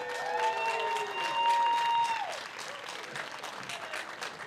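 A crowd at an outdoor community celebration applauds essential workers, with cheering and a sustained whoop over the clapping, then softer scattered claps continuing.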